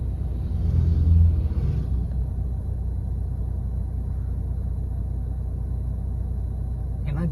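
Car engine rumbling steadily while driving a narrow forest road on the Chinnar–Munnar route, a continuous low drone close to the microphone with a brief louder swell early on and no talk.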